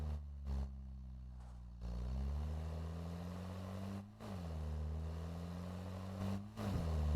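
A UAZ car engine in the Drive Beyond Horizons video game runs with a low, quiet, steady drone, its pitch dipping briefly a few times as the revs shift.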